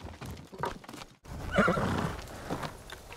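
A video game horse in Ghost of Tsushima whinnies loudly and close, a shaky neigh following some snorting and hoof clatter, with no talk.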